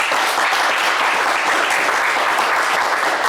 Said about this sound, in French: on vous applaudit encore plus fort que ça